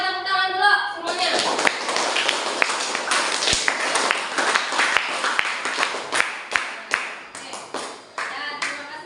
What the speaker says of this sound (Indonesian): Buat tepuk tangan dulu semuanya